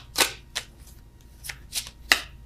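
Tarot and oracle cards are shuffled in several quick, crisp riffling bursts about half a second apart, close and fairly quiet, with no talking.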